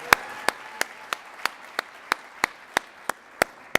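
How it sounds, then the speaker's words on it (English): A single person claps slowly and evenly at an alumni awards event, about a dozen crisp distinct claps spaced roughly a third of a second apart, near and alone over a quiet room. "How about a round of applause for John?"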